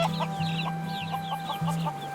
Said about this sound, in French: ce sont des poules domestiques que l'ouragan Iniki a relâchées, leur permettant ainsi de prospérer